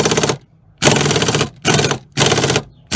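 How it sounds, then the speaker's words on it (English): A pneumatic impact wrench with a 14 mm socket, used on a Nissan Maxima seat belt bolt, rattles loudly and close in three sustained hammering bursts with short pauses between them. "we'll just use the air tool 14 millimeter socket"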